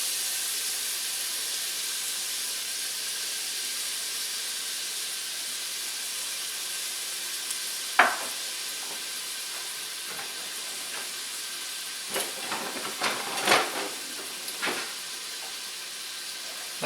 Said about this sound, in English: I got 3 tablespoons of butter here, and I'm going to put some onion in it to get it started